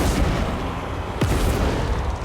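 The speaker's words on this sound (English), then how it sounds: "Cannons fire upon the defenders." Cannons firing on defenders in the video game Total War Warhammer 3, a heavy rumbling barrage over dense battle noise, with one brief whistling shot that stands out partway through.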